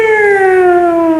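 A siren marking imsak time in a village, one loud, close, steady wailing tone that slides slowly downward in pitch, with no voices over it.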